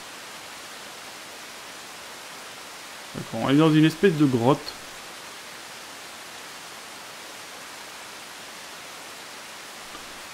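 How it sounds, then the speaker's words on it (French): A steady, rushing waterfall echoes inside a cave in the video game ICO, a constant wash of noise that runs throughout, briefly under someone speaking. "Ah, il y a encore une cascade."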